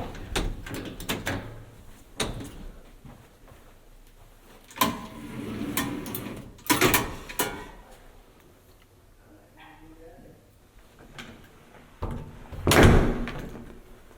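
A door on an Inclinator home elevator in St. Louis, Missouri, being opened, with a few clunks and a louder bang near the end over background rustling.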